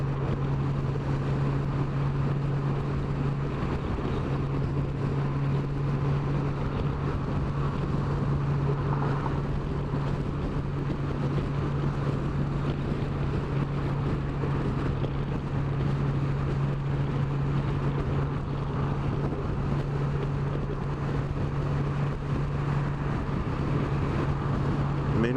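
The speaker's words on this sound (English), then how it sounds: "There's just so much power to this motorcycle." A Honda Valkyrie motorcycle engine hums steadily while riding on a city interstate in moderate traffic, a continuous loud drone mixed with wind rush throughout, with no voices.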